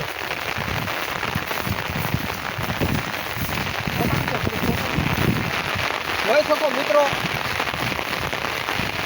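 Heavy monsoon rain pours onto flooded farm fields in Gujarat, a dense, unbroken roar of falling water, with someone talking briefly over it.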